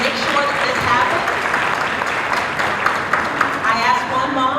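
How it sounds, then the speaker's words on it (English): Audience applause for the organizers of a Jack & Jill cotillion: steady crowd clapping throughout, with voices and cheers mixed over it. "Can we also please give a big round of applause to the organizers of this event who have been working tirelessly to make sure that this happens?"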